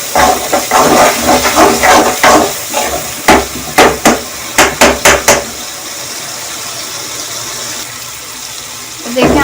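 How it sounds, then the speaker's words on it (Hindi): Tomatoes fry in a pan for a beef curry with a loud, steady sizzle and hiss. Bursts of stirring scrape through the first half, and a plain sizzle carries on alone until the stirring picks up again at the end. "जब तक टमाटर भूनेंगे, जब थोड़े सॉफ्ट हो जाएंगे"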